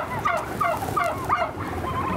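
A flock of farm turkeys gobbling in quick, rhythmic bursts, several birds overlapping close by with a steady, busy chorus and no talking.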